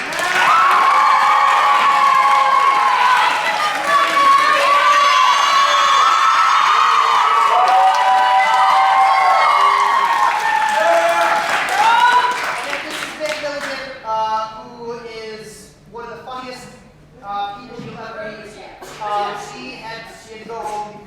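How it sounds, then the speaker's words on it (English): At an evening awards night, a crowd cheers and claps loudly for about twelve seconds, with shouts and whoops over dense applause, before it fades and a speaker talks over scattered remaining claps. "So please give a round of applause."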